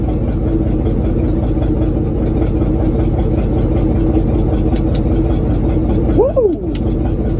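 A Chevy square body truck engine idles roughly and unevenly, a loud close rumble running throughout with a brief squeak near the end.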